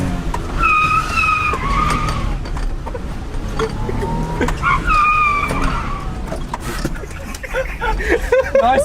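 A fast car driven hard with tires skidding and squealing in repeated bursts, heard from inside the cabin while people talk over the engine and road noise.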